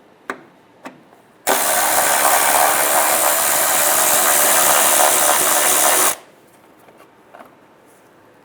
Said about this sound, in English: Using a 10mm socket, remove the bolt.